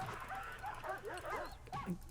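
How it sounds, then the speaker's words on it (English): Guard dog in the prison-management game Prison Architect snarling and yipping in agitated bursts, with whimpering, barking notes rising over a steady game-sound bed for a couple of seconds. "Their dog goes into basically a fury mode now that the handler's been taken out."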